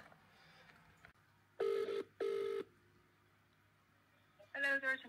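Phone call to a hospital being placed: a faint dial tone, then two long ringback tones a moment apart, and another tone near the end, clear and fairly loud on the line.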